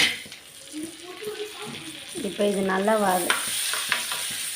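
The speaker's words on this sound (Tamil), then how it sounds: "இந்த பிரிஞ்சி இலை, ஒரு ஏலக்காய், சோம்பு இதெல்லாம் போட்டுக்கிறேன். வதங்கட்டும்." Bay leaf, cardamom and fennel seeds crackle and sizzle in hot oil while a voice talks briefly over the frying.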